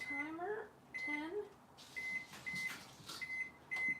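An oven timer is set while baking gluten-free pizza and brownies at home, giving a string of short, high electronic beeps, one per button press, close by, with a person's voice heard alongside at the start.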